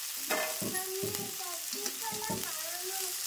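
Chopped onions, four or five cut small, frying in a pan for a homestyle dish, give a steady sizzle under repeated scraping and stirring strokes at close range.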